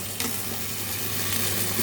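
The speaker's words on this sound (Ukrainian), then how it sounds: "М'ясо шкварчить під кришкою, вже прикрутила." Steady sizzling of meat frying in a covered pan, a constant hiss with faint crackles throughout, no voices.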